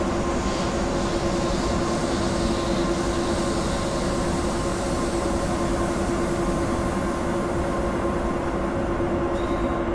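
An ÖBB 1044 electric locomotive running in Train Simulator 2016 on the Three Country Corner route, a continuous loud rumbling drone with steady tonal whine and rail noise throughout, with no talk over it.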